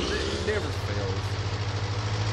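A tractor engine in Farming Simulator 19 drones steadily with a low, even hum throughout, while a voice talks over it briefly.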